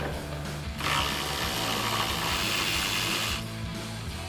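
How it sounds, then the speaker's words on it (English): Ratchet wrench with a 13mm socket backing out the airbox mounting bolt on an EcoBoost Ford F-150 during a cold air intake install, a steady close mechanical clicking and whirring running for about three seconds. "we'll grab our 13mm socket on our ratchet, run that out"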